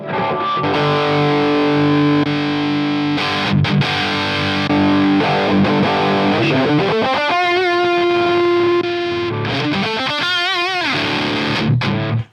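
Heavily distorted electric guitar through an ENGL Savage 120 mk II amplifier with its mid-shaping engaged, giving a strange wah-like vocal quality; loud sustained chords and notes, then bending, warbling tones alone without talk.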